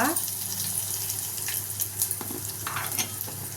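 Garlic cloves, curry leaves and asafoetida fry in hot oil in a home kitchen, giving a steady close crackling sizzle with occasional brighter pops and spits throughout.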